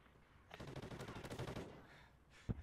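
Rapid automatic gunfire rattles in Call of Duty: Ghosts on PS3, a steady burst of shots lasting about a second and a half, faint and distant, then one sharp closing shot.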